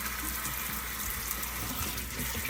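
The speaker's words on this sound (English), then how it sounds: "I'm going to immediately run cold water over them." Cold tap water runs steadily over cooked lasagna noodles draining in a colander in a kitchen sink, a continuous close hiss of flowing water with no talk.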